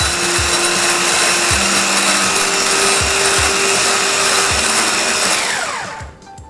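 An electric mixer whips egg whites with a dash of almond extract into a stiff-peaked meringue, a loud steady motor whir with rhythmic low thumps from the beaters, cutting off near the end.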